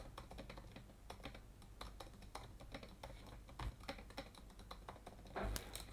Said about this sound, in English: And then we can type in here